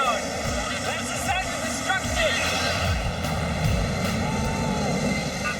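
A Boeing 747's jet engines roar at full blast, a loud, steady, continuous rush with a whining tone on top, unbroken for several seconds with no pauses.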